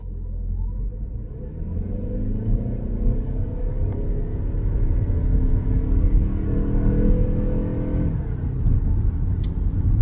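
A 2025 Mazda CX-50 Hybrid accelerates from inside the cabin, a deep engine rumble with a low drone that climbs steadily in pitch and loudness as speed builds, then eases, with no one talking.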